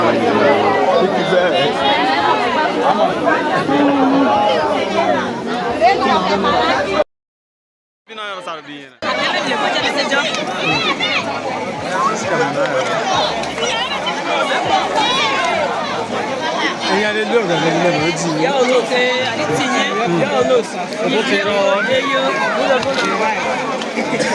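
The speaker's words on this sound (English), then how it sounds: "crowd is massive." A massive crowd at the Owhen fishing festival in Ozoro chatters loudly in a continuous babble, with a brief dropout partway through, and voices rising over the hubbub.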